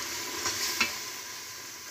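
Masala fries in a handi for a pickle-style mixed vegetable dish, a soft, steady sizzling hiss with two brief stirring scrapes close together.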